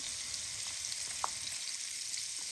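Flour-dredged liver fries in a pan with onion, giving a steady, close hiss of sizzling oil and a faint clink partway through, no voices.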